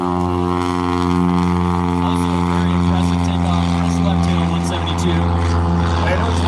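Cessna 172 training airplane taking off, its engine and propeller drone steady and loud throughout, a dense harmonic roar that holds without a break.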